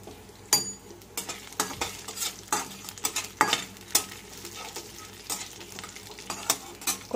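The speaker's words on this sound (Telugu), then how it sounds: "ఆయిల్లో తిరుగుమూత గింజలు వేసేసుకుందాం." Tempering seeds crackle and sizzle in hot oil while a utensil stirs and scrapes the pan, giving irregular loud pops and clinks over a soft frying hiss.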